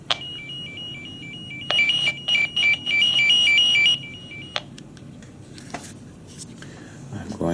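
Tonor RJ11/RJ45 network cable tester switched to scan mode, giving a near, warbling two-tone electronic beep for about two seconds with brief gaps, after a single short chirp; faint clicks and room noise follow once it stops.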